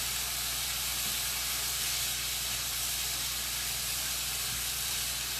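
Fresh green beans and baby Bella mushrooms hiss in a pan of olive oil and butter, a loud, even, close sizzle that runs unbroken throughout, with no speech.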